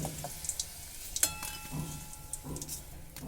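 Prawns fry in oil left over from frying potatoes for a Bengali jackfruit curry: a steady close sizzle with scattered scrapes and clinks as the pan is stirred.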